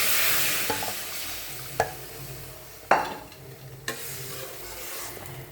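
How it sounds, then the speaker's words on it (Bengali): Fish curry masala fries with a steady hiss in a kadai, broken by four sharp clacks of a spoon stirring against the pan, close and clear. "আর এদিকে মাছের মশলাটাও কিন্তু ভাজা হয়ে যাচ্ছে।"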